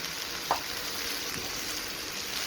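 Tomatoes cooking down in a hot pan for an outdoor chana masala, giving a steady, moderate frying sizzle with one small pop near the start, continuous and without voices.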